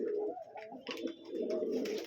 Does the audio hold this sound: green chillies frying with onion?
no